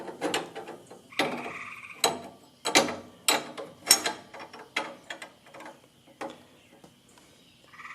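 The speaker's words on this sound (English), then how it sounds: "with these pipe fittings, it's always good to use one of these wrenches that grabs it a little bit better" A wrench works pipe fittings on a truck engine during a cylinder head replacement, giving a series of sharp metallic ratcheting clicks and clanks in an irregular rhythm, close and distinct with no talk.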